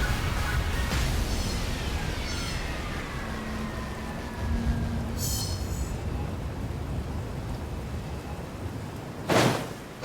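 A thunderstorm in a video game, near a tundra region: steady rain-like hiss and low rumble throughout, with rolling thunder swells, occasional whooshing sweeps, and a sharp loud crack near the end.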